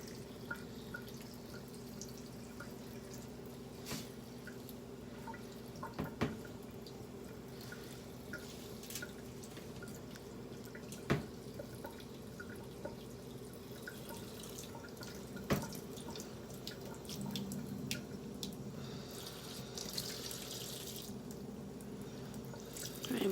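Water from a tap in Florida rinsing beet juice and begonia eco-dye prints, with steady running flow and occasional drips and splashes throughout, fairly quiet and close.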